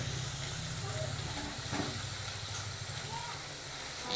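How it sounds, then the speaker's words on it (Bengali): Potato chips frying crisp in hot oil give a steady, moderately loud hiss and sizzle that holds throughout without pause. "নাড়াচাড়া করে কীরকম মুচমুচে করে ভেজে নিচ্ছি"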